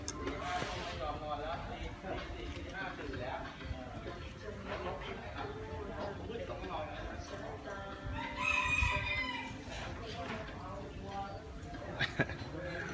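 A rooster crows once in the middle distance, rising and falling, over a busy background of other farm birds and people talking.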